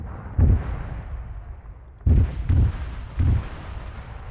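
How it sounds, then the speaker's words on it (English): Missile strikes in Arma's Malden CSAT campaign: four heavy distant blasts, one early and three in quick succession later, each a booming thud with rumbling decay over low background noise. "What the hell are those missile strikes?"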